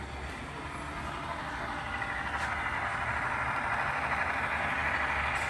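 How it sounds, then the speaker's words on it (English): An HO scale model train, number 57, run from a Roco Maus controller on a DCC layout, rumbles along the track with a steady motor hum and faint rail clatter, close and continuous. "So this train, number 57, is currently being operated by a Roco Maus Controller."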